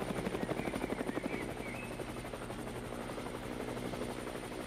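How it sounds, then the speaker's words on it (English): A video game helicopter whirs steadily with a fast rhythmic rotor chop that is strongest at the start and then settles into a continuous engine drone. "hopefully I'll be able to get this helicopter for us again"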